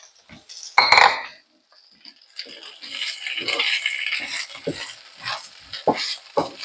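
A spoon scraping and clattering in a pan as potatoes are mixed into fried vegetables for samosa filling, with intermittent stirring strokes and a light background sizzle, loud and close.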